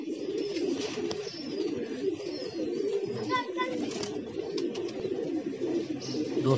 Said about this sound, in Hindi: एक कबूतर और इसके साथ लग गया।